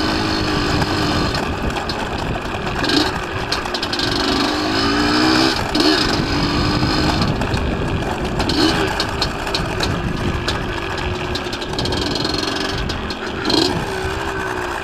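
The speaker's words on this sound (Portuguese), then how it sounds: "Mano, a moto tá falhando, velho." A motorcycle engine runs unevenly with a misfire, its loud, continuous drone sputtering and surging in irregular bursts throughout, close by and alone.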